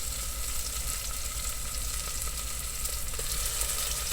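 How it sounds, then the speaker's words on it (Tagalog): Ginger, onion and garlic sauté in a hot pan with a steady, even sizzle that holds at the same level throughout, close and alone with no talking. "Gisa natin yung konting luya, konting sibuyas, at saka konting bawang"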